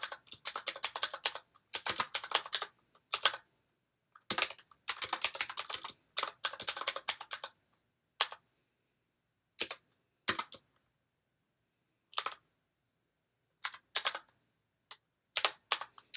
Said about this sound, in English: So I'm writing now the DiGiulio source.